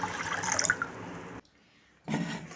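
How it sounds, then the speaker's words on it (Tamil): Water poured over soaking mixed nutritious grains to wash them, heard as two rushing, splashy pours separated by a short pause, close and fairly loud with no speech. "இப்போ நம்ம இது தண்ணியை ஊற்றி நல்லா க கழுவிட்டு"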